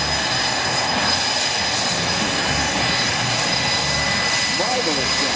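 An F-18 Hornet jet roars past at an airshow at Travis Air Force Base, a loud continuous engine rush that fills the scene, with a voice speaking over it.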